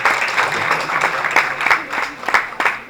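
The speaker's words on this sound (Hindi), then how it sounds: "जोरदार तालियां मुझे लगता है होना चाहिए।" An audience at a seminar claps in a steady burst of applause lasting a few seconds, with individual hand claps standing out as sharp accents within the crowd noise.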